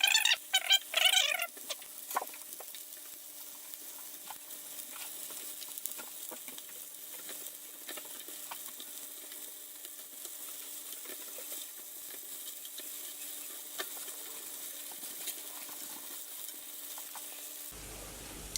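Tofu fries in hot oil, turning brown as it is flipped over: a faint, steady crackling sizzle with scattered small pops, with a few brighter clatters near the start. No one speaks.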